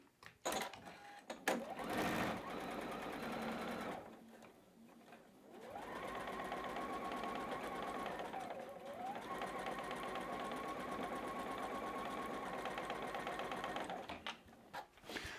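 Stitching a quilt block seam, a sewing machine whirs in a steady, even run with a short pause partway through, heard close and fairly quiet with no one talking over it.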